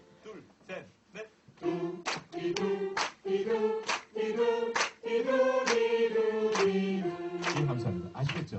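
Hands clap in a steady beat among a group of voices singing syllables in a vocal music class. The sharp claps land at regular intervals under the sung notes.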